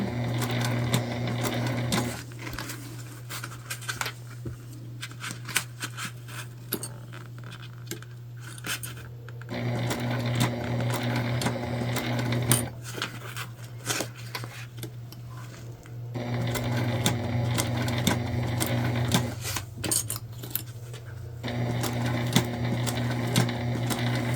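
Sewing machine stitching the gusset of an Aurora shoulder bag: a steady close hum in bursts of several seconds with short pauses between runs and faint handling clicks.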